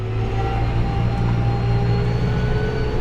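Kubota M135 GX2 tractor engine running at night, a steady loud drone with strong low rumble and whining tonal hum held constant throughout, no voices.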